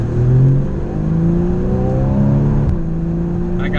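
A Porsche Boxster S with a PDK transmission drives and accelerates on a road, its engine droning loudly and steadily from inside the car, pitch climbing through the gears with a brief shift partway.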